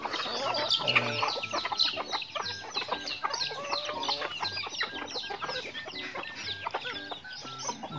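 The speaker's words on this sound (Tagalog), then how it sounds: "mga manok." Many native chickens cluck and squawk continuously at close range, a busy overlapping chorus of short calls from a flock.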